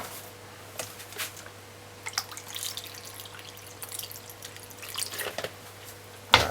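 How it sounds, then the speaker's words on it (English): Water trickles and drips into a bowl of saltfish set to soak, soft and close, in an intermittent patter with a louder splash at the end. "Fill up the water to the top."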